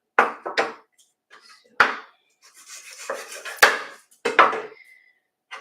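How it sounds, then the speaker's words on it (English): A kitchen knife roughly chops garlic on a cutting board, a series of sharp, irregular thuds and taps with brief scraping pauses between them, close and clear with no talking. "So at the moment I'm chopping the garlic. I'm not mincing it, I'm just chopping it roughly."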